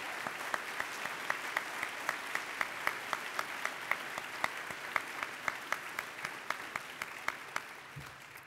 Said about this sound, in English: So please join me with a thundering round of applause